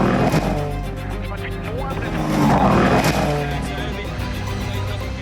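Gregoire Munster's WRC rally car crabs along a narrow, fast stage at the Acropolis Rally with a suspected rear suspension failure. Its engine drones loud and steady, rising and falling slightly beneath a commentator's voice.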